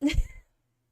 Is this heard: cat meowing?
yes